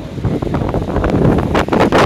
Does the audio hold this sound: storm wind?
yes